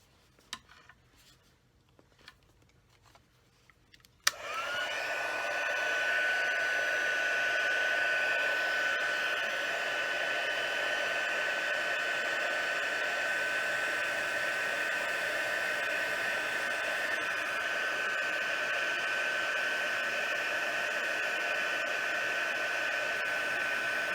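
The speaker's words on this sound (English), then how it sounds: "get my heat tool, and I'll quiet the video while I set this" A craft heat tool blowing hot air to melt and set embossing powder on a card, switching on sharply after a few faint handling taps and then holding a steady, fairly quiet whooshing drone through the rest of the clip.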